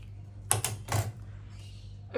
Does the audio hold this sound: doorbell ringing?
no